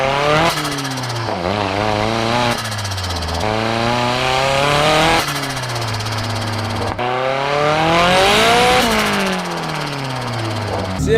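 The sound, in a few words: Toyota AE86 with SR20 turbo engine driving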